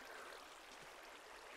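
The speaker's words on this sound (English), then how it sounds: "Water is pulling us downstream quite heavily." A flowing water current in Minecraft gives a faint, steady rushing and gurgling hiss for a moment, quiet and continuous with no voices.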